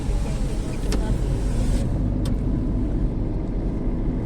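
Road traffic with a line of cars, heard from inside or beside a vehicle as a steady close rumble of engines and tyres, with low wind buffeting and a couple of brief sharper clicks.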